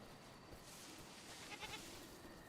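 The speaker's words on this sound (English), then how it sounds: "Oh, I hear a goat. The Markhor," A markhor goat bleats faintly in a video game, a short, soft call heard midway through, set against a low ambient bed.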